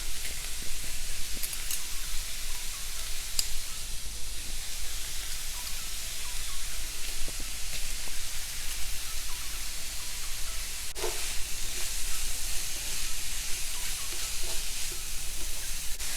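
Crushed garlic sizzling in a skillet for a potato and egg breakfast, a constant close fizzing hiss with a few faint clicks from a utensil, steady throughout with no voices.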